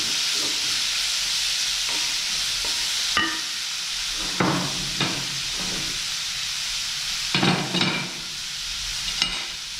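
Chopped leeks stirred and fried in a pan give a constant close sizzle, with scattered scrapes and clicks of the spoon against the pan between hissing bursts.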